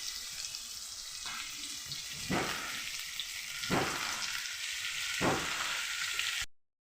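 Garlic paste fries in a pan with fish, giving a close, steady sizzle broken by several sweeping scrapes of stirring before the sound cuts off abruptly.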